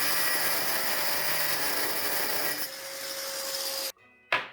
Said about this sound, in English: I cut off a small piece with the grinder